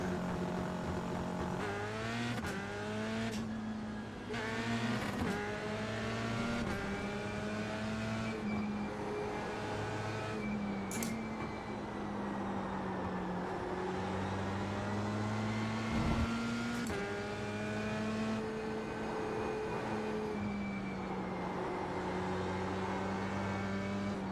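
An F3 race car on a shakedown run at Suzuka in a sim racing game: a loud, close engine whose pitch rises and falls through repeated gear shifts, steady throughout with no speech.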